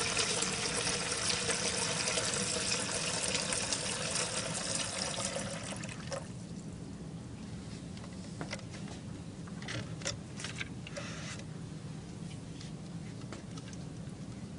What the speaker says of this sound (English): we have to put water into column B, just below the lid of bottle C